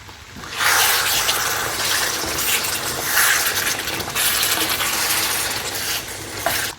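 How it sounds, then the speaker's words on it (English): One cup of water poured from the edge of a pan onto seared chicken for a Goan chicken vindaloo, a loud continuous splashing hiss that starts abruptly and runs nearly seven seconds before cutting off. "Once the chicken has been seared well, pour in 1 cup of water"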